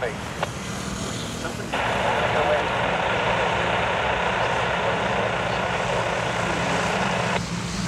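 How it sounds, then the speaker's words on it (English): A gray T-34 propeller aircraft with tip tanks passes at an airshow airfield, its steady loud engine drone rising and holding for several seconds over a constant outdoor rumble. "Might be a left front gray T-34 with tip tanks."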